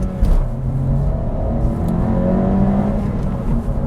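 A 2022 Honda Civic Si engine revs steadily as the car accelerates, its rising tone heard from inside the cabin, with a faint click or two near the start.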